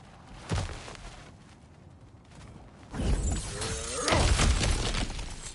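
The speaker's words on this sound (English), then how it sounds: "Ah, back to smashing through things for fun and profit." Cracked ground smashed apart in God of War Ragnarok, a sharp crash followed by a louder burst of crumbling, shattering rock and debris that rumbles and settles.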